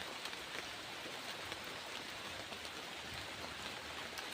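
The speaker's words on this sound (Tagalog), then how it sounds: "Usog yung ulan rin mga idol." Constant rain patters on surfaces, a soft even hiss with scattered drops, no voices.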